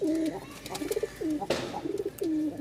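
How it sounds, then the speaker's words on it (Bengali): A male Lal Sundori pigeon coos close by, giving about four repeated rolling calls in steady rhythm, clear and fairly loud with no voices over it. "আমরা নরের ডাকটা দেখাই আপনাদেরকে এই দেখেন"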